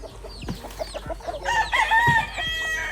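Several chickens cluck and squawk nearby in a busy, overlapping chorus, with one rising call standing out midway.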